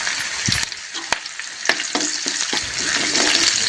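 Curry leaves and spices hit hot oil in a pan with a loud, close, steady hiss of frying. Crackling pops and a few stirring clinks run through it, and no one talks.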